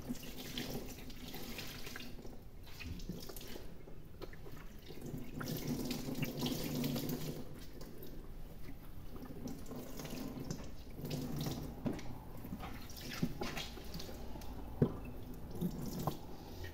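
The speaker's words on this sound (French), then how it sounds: "je vais tout simplement venir les essorer" Makeup brushes wrung out under running tap water at a sink, a steady close splashing stream with drips and squelches throughout, no talking.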